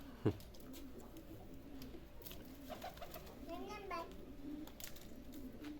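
Çorum bald pigeons coo softly in a coop, low bubbling calls repeating at a moderate distance, with a voice and other people talking faintly around them.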